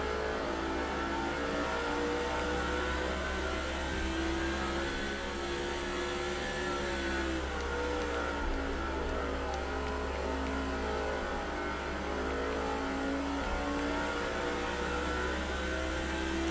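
Race car engines in the NASCAR 06 video game at Richmond, a dense continuous drone of several engines holding steady pitch with slight rises and falls, loud and unbroken throughout with no talking.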